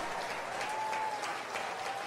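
An audience claps steadily in a dense, even patter of applause that carries on throughout.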